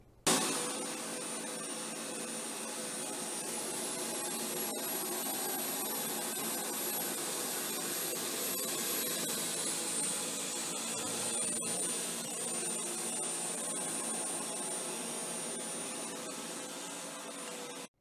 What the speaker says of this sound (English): run the vacuum over it, one forward pass, one backwards pass, and see if it'll pick all of those chili flakes up